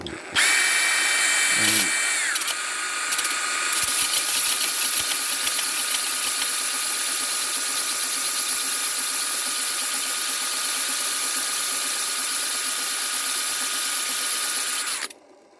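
A high-pitched motorized sharpening machine grinds Rolly Munro tungsten carbide cutters, whining steadily and loudly for about fourteen seconds with a brief pitch shift near the start before cutting off abruptly.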